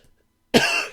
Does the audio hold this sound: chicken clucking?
no